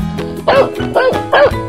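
A dog gives three sharp barks at an even pace, near and loud, over a light rhythmic musical backing.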